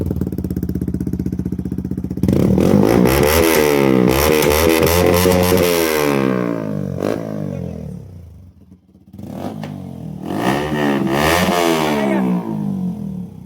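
Yamaha MT15 motorcycle exhaust with the dB killer removed, heard up close as a loud idle that jumps into repeated throttle revs, rising and falling in sharp bursts with a short lull before revving again.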